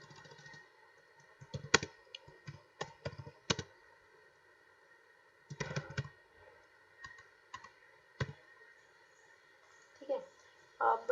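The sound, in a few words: typing on computer keyboard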